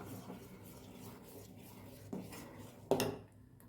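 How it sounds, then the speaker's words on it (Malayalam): Sago and carrot payasam being stirred in a pot, a spoon rubbing and scraping against the metal in steady strokes, with a sharper knock near the end. "നന്നായിട്ട് ഇളക്കി കൊടുക്കാം"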